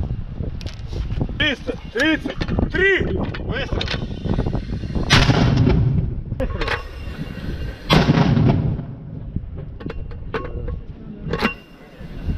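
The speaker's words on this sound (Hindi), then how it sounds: "रूस के सैनिक मोटरार से यूक्रेन पर हमला कर रहे हैं।" Russian soldiers fire a mortar toward Ukraine, loud booming launches and sharp blasts repeating through the scene, with voices talking and shouting between the shots.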